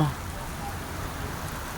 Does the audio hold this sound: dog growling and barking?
no